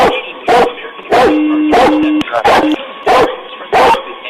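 Police dog barking in sharp, loud bursts at a steady rhythm close by during a tense arrest, with an officer shouting over it and a siren-like tone between barks.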